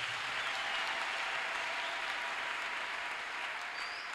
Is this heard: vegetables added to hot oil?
no